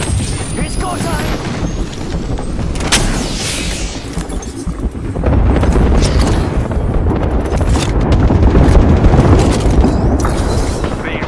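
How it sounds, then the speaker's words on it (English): Airstrike explosions in the video game Apex Legends, a run of heavy booming blasts that rumble and swell, growing louder midway, mixed with game effects and voice lines over the top. "Airstrike incoming!"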